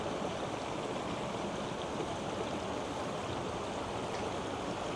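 Partly frozen stream flowing steadily, a constant broadband rush and babble of running water heard close and alone, with no voices.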